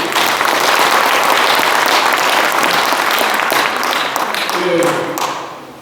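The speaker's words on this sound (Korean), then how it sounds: "박수로 환영합니다." Loud, dense applause from a forum audience welcoming a National Assembly member, sustained hand-clapping filling the room before fading out at the close.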